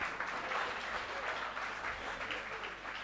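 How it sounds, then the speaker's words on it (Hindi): Audience applause at a celebration for SSC CPO exam toppers, steady dense clapping from a crowd that holds for about three seconds without talk over it. "आप खुद अपने लिए तालियां बजा दीजिए।"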